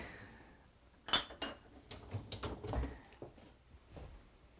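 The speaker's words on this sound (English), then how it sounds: "I just have to get a spatula." Kitchen utensils rattled and clinked while a spatula is pulled from among them, a sharp metallic chink followed by a string of softer clatters and knocks, close by and fairly quiet.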